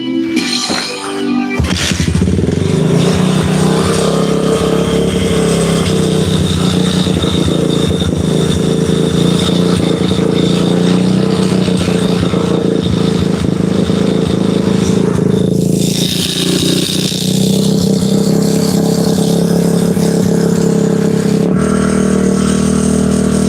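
Car engine running in a garage, a loud steady close drone at high speed that rises and dips briefly midway, starting abruptly after a short quiet moment and cutting off near the end, with no talk over it.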